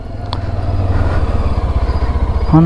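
Motorcycles ride past a long line of stopped traffic on the mountain road from Lachung to Gangtok, with a loud, close engine throbbing in quick pulses throughout.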